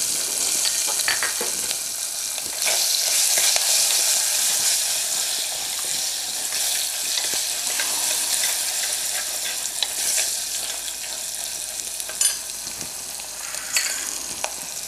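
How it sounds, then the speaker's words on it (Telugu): Green chilies fry in hot oil for a tamarind rasam, giving a continuous loud sizzle and crackle with occasional stirring scrapes and small spatter pops. "పచ్చిమిర్చి వేస్తున్నా అండి"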